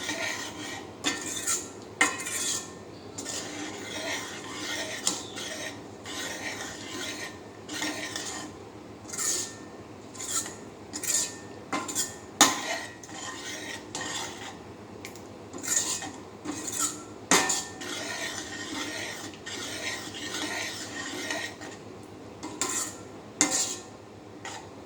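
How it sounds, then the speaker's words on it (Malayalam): A spoon stirs ragi vegetable soup in a pot, scraping the bottom again and again in a steady, uneven rhythm, with light clinks against the metal, close and fairly quiet with no voice. "ഒഴിച്ചു കഴിഞ്ഞാൽ അടിയിൽ പിടിക്കാതെ നന്നായിട്ട് ഇളക്കണം"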